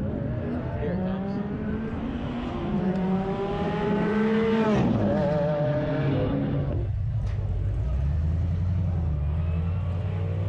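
At an Adelaide roll racing event, cars accelerate flat out side by side, their engine notes sweeping upward in rising harmonic wails before dropping. The sound is loud and close, with some voices blending into the noise.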